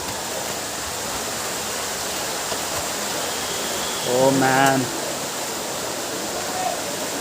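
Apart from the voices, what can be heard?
Ubbala Madugu waterfall rushing water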